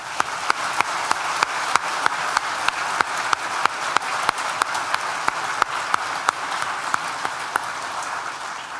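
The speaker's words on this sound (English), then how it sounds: "I'm sure everyone will join me in a round of applause for the lecturers here today" A graduation ceremony audience applauds the lecturers with sustained, dense clapping filling the hall, punctuated by regular sharp, prominent claps near the recorder, with no talk over it.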